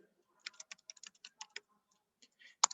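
Code is typed on a computer keyboard in a quiet room, with a short irregular run of soft, close key clicks, a brief pause, then a few more taps ending in a sharper click.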